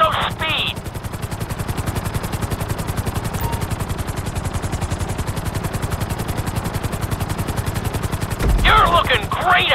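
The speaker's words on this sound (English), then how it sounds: "we'll see how well you handle the chopper" A helicopter in the video game GTA 5 flies with a fast, steady rotor chop throughout, loud and close, with brief bursts of other game noise at the start and end.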